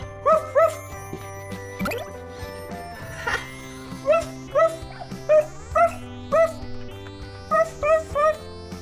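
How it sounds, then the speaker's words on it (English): A cartoon dog barks in short yipping bursts, repeated about a dozen times in quick pairs and runs over a bright musical backing, loud and close. "Do you see a dog?"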